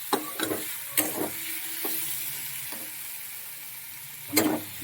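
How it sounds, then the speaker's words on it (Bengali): Spice paste for a prawn and taro stolon curry fries in a pan, a soft continuous sizzle broken by several sharp scrapes and knocks of stirring, close and moderately loud. "মশলাটা ভালো করে ভাজা ভাজা হোক"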